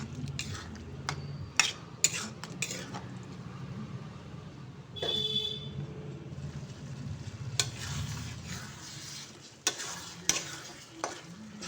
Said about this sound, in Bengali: তো ছোলার ডালটা দিয়ে আমি খুব ভালো করে নেড়ে চেড়ে এর সঙ্গে মিশিয়ে নেব